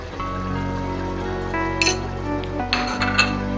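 Haleem masala being stirred into meat in a pot, with a steady cooking hiss and a few bright clinks of a spoon against the pot rim near the middle and end, close and moderately loud, with no talking.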